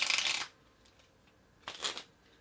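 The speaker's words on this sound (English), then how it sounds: "They just hear the cards being shuffled, so it sounds fair." Two quick rustling bursts of playing cards being riffled together in a false shuffle, faint and close, with a brief quiet gap between them.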